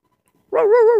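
A chained dog outdoors lets out a single drawn-out whimpering whine, close and fairly loud, wavering in pitch after a moment of silence.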